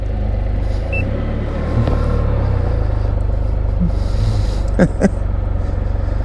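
Can-Am Spyder RT-L three-wheeled motorcycle running, a loud close steady low engine rumble with a couple of brief sharp knocks near the end.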